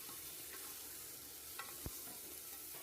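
Slit green chillies frying in hot mustard oil, a steady soft sizzle with a couple of faint clinks from stirring, fairly quiet and close with no talk.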